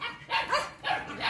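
Several dogs in a home garden bark in short, repeated bursts, close and fairly loud, with brief gaps between barks and no talking over them.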